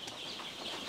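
Young chicks inside a chicken house, heard as brief chirping and clucking over a constant airy background hum of the building, close and fairly loud.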